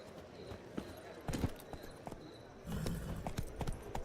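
Roach, the horse in Witcher 3: Wild Hunt, gallops with rhythmic hoof clip-clops, close and fairly loud, the footfalls quickening and growing denser in the second half.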